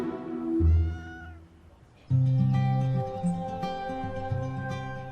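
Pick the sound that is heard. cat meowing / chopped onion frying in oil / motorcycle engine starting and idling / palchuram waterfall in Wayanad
cat meowing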